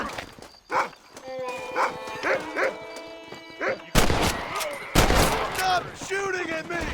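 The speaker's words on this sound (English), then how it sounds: "Stop shooting at me!" Gunfire in the Red Dead Redemption video game, with sharp broadband shots and rattling bursts in the second half, set among animal-like calls and a voice speaking earlier.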